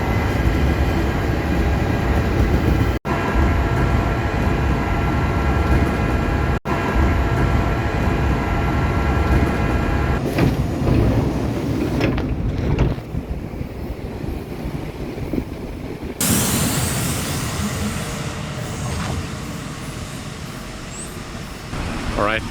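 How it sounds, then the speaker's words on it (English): Ride aboard a rural Japanese train bound for the remote Nishi Aoyama station, a steady loud rumble of wheels and cabin noise running throughout, shifting in texture midway, with voices talking over it at times. "Alright, this is our train."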